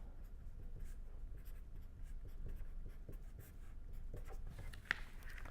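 A pen or marker writing on a board during a tutorial, soft continuous scratchy strokes that are faint and close, with one sharp tap near the end.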